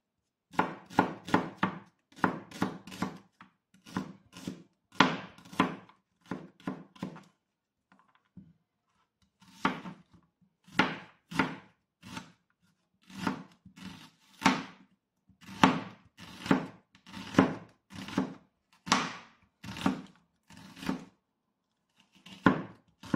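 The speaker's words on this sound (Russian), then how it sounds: "Лук порезали вот такими кольцами, не очень тонкий и не очень большой." Knife chopping an onion into medium-thick rings on a cutting board, with steady bursts of sharp, close chops separated by short pauses and no talking.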